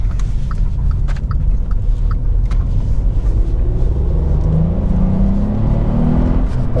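Volkswagen up! GTI driven hard, a steady loud engine drone and road rumble from inside the cabin, with the engine note rising through the gears under constant tyre and wind noise.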